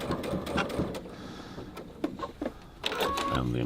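Sewing machine stitching a pocket onto a bag lining, short bursts of close mechanical whirring and clicking with brief stops between runs.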